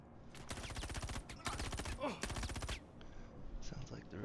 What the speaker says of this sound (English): Sounds like they're upstairs. And they got some big machine guns up there.